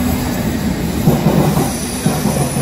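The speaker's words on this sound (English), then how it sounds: "That is our train." A train pulls up at a station platform in Bristol, a steady low rumble of wheels on rail with faint squealing, close and continuous for a few seconds with no talk over it.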